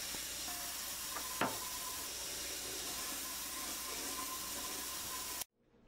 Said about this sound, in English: you're going to fill both glass jars with water